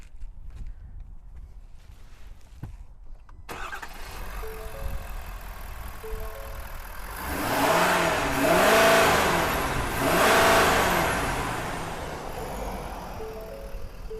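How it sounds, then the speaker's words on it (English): A 2022 Ford F-250 Tremor pickup idles quietly, then its engine is revved in two rising-and-falling swells before easing back to idle, moderately close. "We'll give it a few revs."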